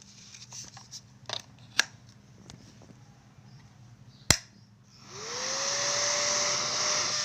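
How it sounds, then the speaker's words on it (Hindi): A small electric fan plugged into a homemade extension board wired with telephone wire starts up after some handling clicks and a sharp snap, then runs as a steady, fairly loud whirring hum. "ये एक छोटा सा पंखा है।"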